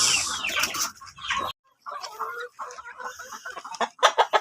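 Two-month-old Decal Brown backyard chickens on a free-range heritage farm cluck and chatter up close in uneven bursts, with a brief quiet gap partway through.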